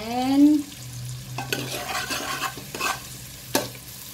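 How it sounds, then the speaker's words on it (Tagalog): Garlic sizzles and is stirred in a pan while cooking Italian pasta, with a brief voice-like tone at the start, then steady frying hiss broken by several scraping stirs. "The next is a garlic. Garlic."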